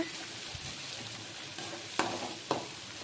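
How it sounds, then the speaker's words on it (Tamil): Onions and tomatoes sizzle in oil in a pan, a soft steady fry with a few sharp stirring knocks near the end. "நல்லா வதக்கிட்டு வெங்காயமும் தக்காளியும் வதங்கினோடனே நம்ம சுண்டைக்காய் போட்டு எண்ணெயில் நல்லா வதக்குறோம்"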